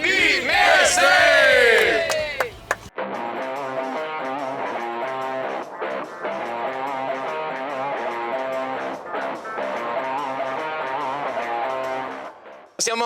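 Udinese football supporters on an away trip chant loudly together during a black-and-white scarf display, a dense sustained crowd roar with rhythmic surges, preceded by a brief burst of shouting.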